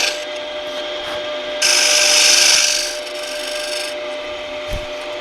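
Lathe tool scraping a shallow recess into a turned wooden lamp base, a steady close rasping with a louder, brighter burst of cutting for about a second in the middle.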